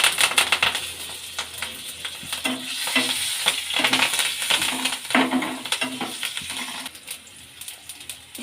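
Curry leaves dropped into hot oil for mango pachadi give a dense, crackling splutter and sizzle at close range, with sharp pops and stirring clatter throughout and no voices.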